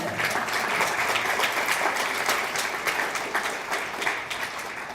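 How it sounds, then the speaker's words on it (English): Steady, dense applause from an audience at a student leadership recognition ceremony fills the full stretch without pause, loud and close throughout. "All right, give them another round of applause."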